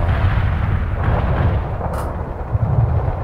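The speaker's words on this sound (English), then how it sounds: "The Soviet artillery barrage is getting close." Soviet artillery barrage in the World in Conflict Seattle invasion mission, a continuous loud rumble of heavy shelling with overlapping booms and a sharper crack near the middle.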